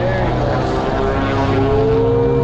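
A floatplane takes off from the water near a boat, its loud propeller engine droning steadily close by with a rising tone, while a voice speaks briefly over it.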